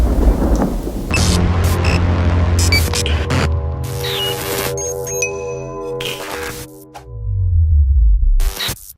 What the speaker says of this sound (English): let's bring the thunder